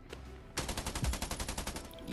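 A rapid burst of automatic gunfire in an Indian battle royale mobile game, roughly a dozen evenly spaced shots fired in quick succession after a brief quiet moment, close and fairly loud.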